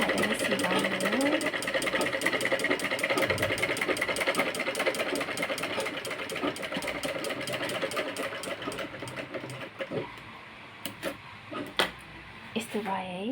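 A sewing machine runs in a rapid, steady stitching rhythm along a half-inch garment seam, then slows to a few short bursts and clicks, while someone talks over it.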